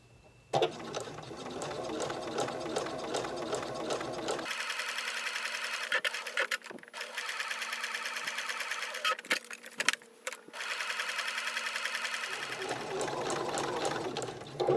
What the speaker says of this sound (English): Now with this piece, again just back tack, back stitch.